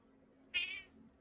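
A single short cat meow at moderate volume, rising abruptly and fading within about a third of a second over a quiet room background.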